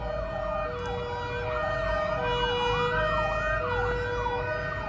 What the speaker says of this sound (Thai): เสียงไซเรนก็ดังสู้กับเสียงพูดของผมด้วย